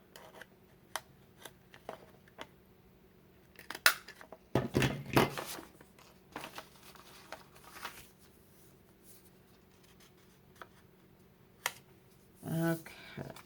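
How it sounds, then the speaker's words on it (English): Scissors snip the corners of a kraft paper envelope, giving sparse, faint clicks and crisp cuts scattered across a quiet tabletop, with a couple of louder rustling bursts of paper handling. "Using your scissors."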